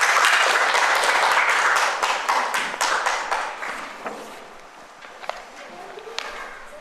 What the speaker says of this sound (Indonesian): Ya, beri aplaus untuk kelompok 2.